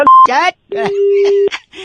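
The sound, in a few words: phone call hang-up beep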